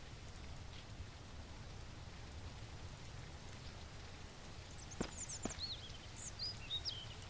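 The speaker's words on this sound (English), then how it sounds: "Is that rain? Oh yeah, it is." Steady rainfall hisses across the outdoor world of the survival video game Mist Survival, a soft continuous patter with a couple of brief sharper ticks near the end and no voices.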